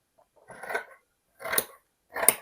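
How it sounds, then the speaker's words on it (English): Scissors cutting fabric in a straight line for a sewn book sleeve, heard as three separate crisp snipping strokes spaced about a second apart, close and fairly quiet. "So we're just going to cut in a straight line up."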